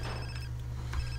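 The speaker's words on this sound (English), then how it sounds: "My phone rings." A phone rings in the GTA San Andreas video game, one brief electronic ring over a steady low hum of game background sound, with no voices.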